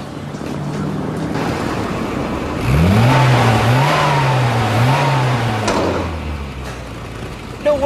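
A troubled car engine with a flashing oil light makes funny noises. Its rough rumble swells into an uneven, wavering whine for a few seconds before dropping back, fairly loud against background noise.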